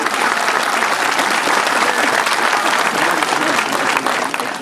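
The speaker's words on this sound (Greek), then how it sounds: "Ένα δυνατό χειροκρότημα." Loud, dense audience applause at a school concert tribute in Livadeia, steady clapping from a full hall that continues throughout and eases slightly at the very end.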